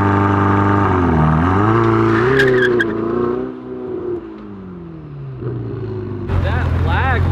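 McLaren 570S engine revving hard at high altitude, the pitch climbing and wavering before it bogs down and fades, then a sharp loud burst of revving returns at the end.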